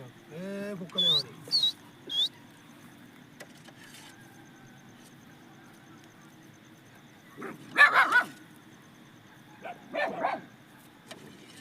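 Village dogs bark in short bursts, a few high yelps early and a louder cluster of barks later, moderately near, with people chatting quietly in between.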